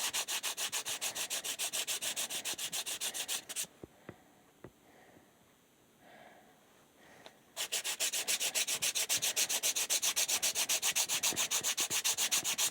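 Rapid rhythmic scraping of sandpaper rubbed back and forth by hand, a few seconds of strokes, a brief pause with light handling noises, then brisk sanding again.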